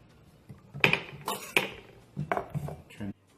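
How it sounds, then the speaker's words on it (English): Metal spoon scraping and clinking against the hollow of a halved acorn squash, several short scoops and taps in an irregular rhythm, close and fairly quiet. "Scoop the seeds out."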